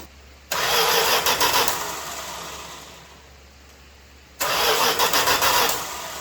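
A 1974 Dodge Dart that sat for 22 years, cranked with the key in two loud, steady bursts of churning engine noise, each lasting a few seconds, separated by a quieter pause.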